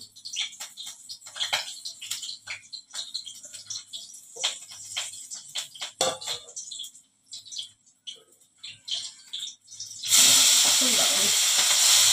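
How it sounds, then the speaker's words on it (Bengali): Green chili seeds in hot frying oil pop in sharp, irregular crackles over several seconds while someone talks, then a loud continuous sizzle surges up near the end. "কাঁচা লঙ্কার দানাগুলো ফট ফট ফট ফট ফট"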